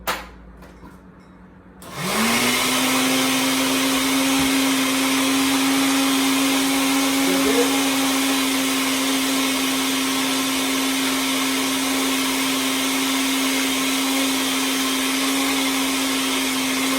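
A kitchen blender whirs steadily with food and juice inside, a continuous motor drone that starts after about two seconds of quiet and runs loud and unbroken to the end, with no talking.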